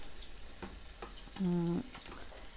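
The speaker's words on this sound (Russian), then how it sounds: "Перетоплю и здесь буду делать зажарку для супчика" Chicken back fat frying in a pan for soup gives a faint crackling sizzle, with a brief louder hissing burst in the middle.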